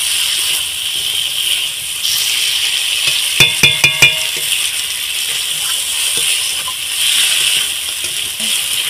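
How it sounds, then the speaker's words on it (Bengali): Spice paste for chicken ghugni sautéing in oil, a soft continuous sizzle with a quick burst of metallic clinks from a spoon against the pan midway. "আমি এই ঝালটাকে ভালোভাবে কষিয়ে নেব।"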